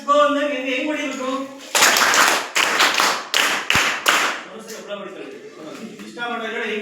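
A classroom of children claps in a quick patterned sequence of sharp, loud group claps in the middle, with children's voices speaking before and after.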